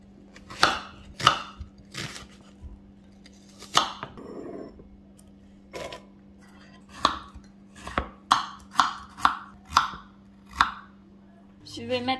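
A knife chops vegetables on a cutting board in a home kitchen, with a steady run of close, crisp knocks, some spaced apart and others in a quicker rhythm, over a low constant hum.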